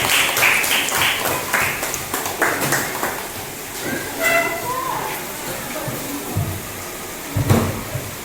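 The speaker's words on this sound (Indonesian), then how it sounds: "berikan aplaus untuk kelompok 2" Brief, scattered clapping from a classroom for a group of students, mixed with chatter and room noise rather than sustained applause.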